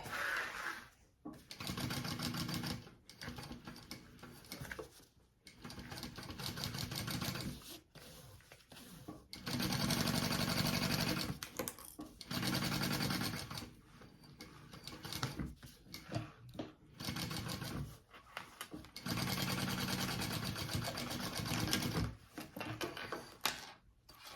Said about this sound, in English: I'm gonna sew it from this way so I can make sure and catch that. So I'm just kind of basting these layers together now and closing it all up.